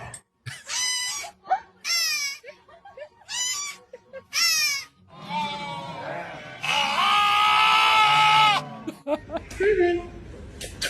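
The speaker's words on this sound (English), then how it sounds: "Now I want a baby goat." A baby goat bleats in several short, wavering cries early on, followed by people talking and laughing nearby.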